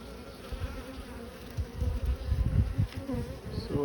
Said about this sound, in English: all right, bees.